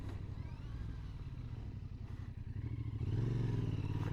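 A Royal Enfield Interceptor Bear 650 engine putters along at moderate revs in third gear, then rises and growls louder near the end, heard steadily from the rider's position.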